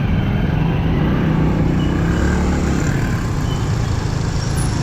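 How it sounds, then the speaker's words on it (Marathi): Dense road traffic on a busy street in Pune: a continuous, loud rumble of car, motorcycle and truck engines close by, steady and unbroken, with no voices heard. "तर ट्रॅफिकच ट्रॅफिक आहे ट्रॅफिकच ट्रॅफिक आहे"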